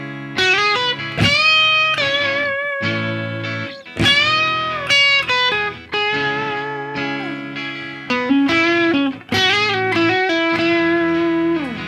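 A distorted electric guitar solo plays in short, bright phrases of bends and quick notes, with brief pauses between them, over sustained lower chord tones.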